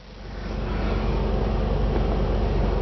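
Just after start-up, a 2006 Jeep Wrangler with a 6-speed manual and 55,000 miles idles in a steady, close, throaty hum that rises over the first half-second and then holds.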